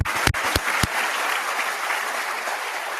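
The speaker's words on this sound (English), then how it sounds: "I'd like to give you all a round of applause." A ceremony audience applauds in a dense, steady wash of clapping, with a few sharp, close claps standing out at the start.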